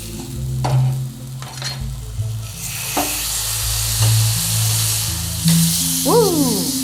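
Paneer burger patties fry in hot ghee at high heat, giving a steady close sizzle with occasional stirring and scraping clinks over it.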